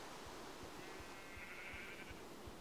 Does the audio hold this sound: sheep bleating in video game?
yes